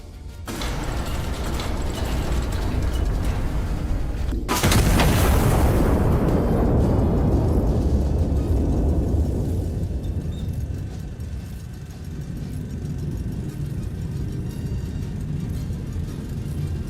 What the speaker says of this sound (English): 2 giant cannons firing simultaneously.